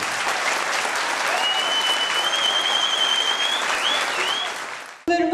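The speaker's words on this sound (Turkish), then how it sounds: "Hepsi için kuvvetli bir alkış istiyorum." Strong, sustained applause from a concert audience honoring a Turkish classical music choir and its instrumentalists at a university New Year concert, dense and steady for about five seconds before fading, with a whistle-like tone riding over it and a brief sound after.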